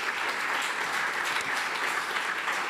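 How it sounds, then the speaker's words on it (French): A crowd applauds steadily after a courageous testimony at a mock tribunal for future generations, a dense, even patter of many hands with no talking over it. "Merci de l'applaudir pour ce témoignage courageux d'insider"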